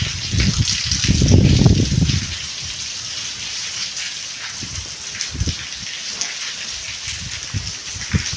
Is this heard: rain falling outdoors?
yes